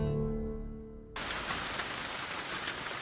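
Heavy rain pours down in New Guinea, a dense, even hiss of falling water that cuts in abruptly after a short stretch of humming tone, then continues steady and loud.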